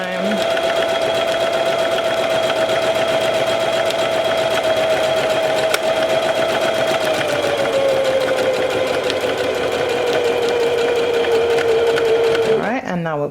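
A Singer Heavy Duty sewing machine stitches a buttonhole with a steady, loud motor whir that holds one pitch and then drops slightly before stopping near the end. The sewing runs continuously and dominates the whole stretch.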